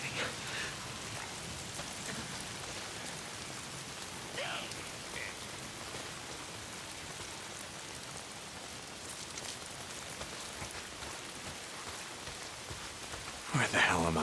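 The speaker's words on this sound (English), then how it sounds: "Damn rain. If it's not the freaks, it's the goddamn rain." Steady rain pours in the PS5 game Days Gone, a constant soft hiss of drops on surfaces that fills the background throughout, with a brief rustle midway and a louder splashing burst right at the end.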